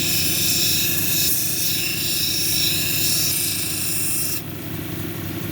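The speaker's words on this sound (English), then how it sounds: "I'm going to touch up the girdle a little bit, and then we're going to move on to the 220 grit" A quartz-with-jasper-plume cabochon has its girdle ground on a lapidary wheel, giving a loud, steady, rasping whir that continues with little change, then drops in pitch and intensity near the end.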